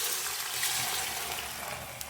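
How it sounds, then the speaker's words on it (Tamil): Cooked mutton and its stock from a pressure cooker poured into a pan of masala for a mutton fry, a continuous liquid splash and trickle heard close up and fairly loud. "இப்போ நம்ம குக்கரில் வேக வச்சிருக்கிற அந்த மட்டன் தண்ணியோட சேர்த்து ஊற்றிடலாங்க"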